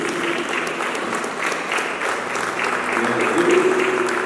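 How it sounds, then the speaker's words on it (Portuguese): Church congregation clapping during a Sunday service, dense sustained applause from a crowd lasting several seconds, with some voices and a faint musical tone underneath. "Uma salva de palmas."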